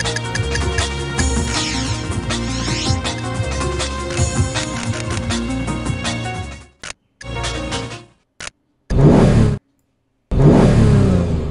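A car engine revs loudly at a race start in the Need for Speed III Hot Pursuit video game, with a steady whirring drone that cuts out abruptly several times and returns in short bursts.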